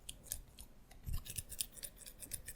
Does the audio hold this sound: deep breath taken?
no